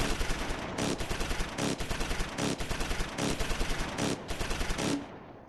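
Machine guns open up on crawling infantry in the wartime strategy game Close Combat IV, firing in repeated short bursts with brief gaps between them, loud and close, then cutting off abruptly with a fading tail.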